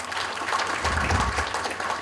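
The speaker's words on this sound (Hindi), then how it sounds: "भैया जी के शानदार तालियां" Audience applause at a Royal Diamond Celebration event in Rourkela, Odisha, a steady crowd clapping that holds evenly through the moment with no voices over it.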